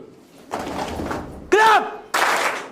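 In a group speaking activity, people jump and land with heavy thuds on the floor, a few loud impacts separated by short gaps, with a voice briefly heard between them.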